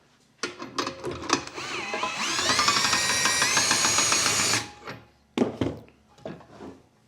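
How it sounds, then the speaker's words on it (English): A power drill fitted with a 22 mm socket drives a heavy-duty scissor jack. Sharp clicks and taps come first, then a loud, sustained whining run of about two seconds, followed by more knocks and clatter. "And I usually drive this with my drill."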